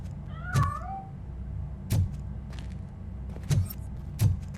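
A cat in the video game RoboCop: Rogue City gives one short, clear meow, followed by a few dull thuds spaced apart over a low background hum.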